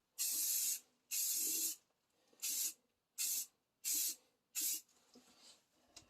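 Six short hissing bursts from a spray can apply primer to a plastic headlight, each lasting about half a second with even gaps, close and steady, followed by softer trailing hiss.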